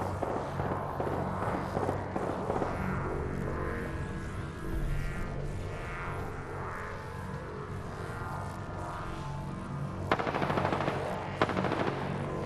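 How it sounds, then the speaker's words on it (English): Enemy gunfire in the battle royale game Apex Legends: rapid automatic bursts crackle continuously for over twelve seconds, loud and close. Layered engine-like drones and heavier clustered shots come near the end, with no talking. "The enemies are shooting at me."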